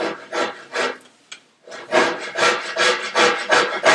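A hand tool rasps along a wooden molding edge, cutting a straight chamfer on a document chest: a run of about a dozen rhythmic, close, loud strokes, broken by a short pause early on and then continuing steadily.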